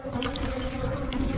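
Excited honeybees hum in a steady, dense buzz while a hive is split into a new brood box, a close, continuous drone with a few louder passes of individual bees.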